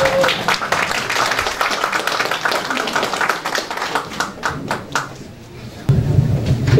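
A crowd claps steadily in sustained applause at a Korean political campaign office opening ceremony, loud and dense, tapering off before a voice and room noise return near the end.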